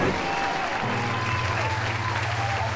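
Applause from a podcast studio audience as a guest walks onto the set, a dense continuous wash of clapping with a low tonal hum underneath and faint voices mixed in.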